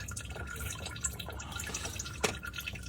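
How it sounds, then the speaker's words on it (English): Engine oil trickles and drips in a steady, faint stream from the sideways filter's middle spout on a Ford Expedition with a 3.5L V6 EcoBoost. "now we get to find out where this oil drains out"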